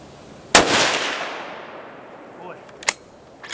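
A single sharp, loud report from a Howa 1500 rifle in 6.5 Creedmoor fitted with a muzzle brake fires outdoors, followed by a long decaying echo, with a second fainter crack or impact a couple of seconds later.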